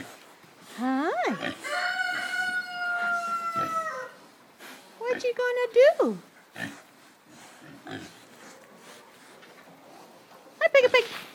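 Weaner piglets grunt and oink in a farm pen, with short snuffling calls mixed in. Loud, excited, high-pitched human talk and exclamations largely mask the animals.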